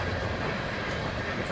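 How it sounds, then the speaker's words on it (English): A long coal unit train rolls past on rails in Wyoming's Powder River Basin, its steady dense rumble and wheel rattle continuous and fairly close throughout, with no voices. "A big long unit train like this will go straight to Norfolk, get transloaded onto a ship and"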